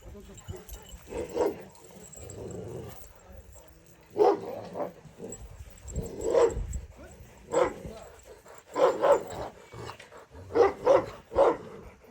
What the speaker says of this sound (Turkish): Karşıda dişi köpeğimiz Aşkar var.